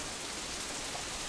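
Steady rain pours in a visual novel game scene, a dense even hiss of drops hitting surfaces with no pauses and no voices.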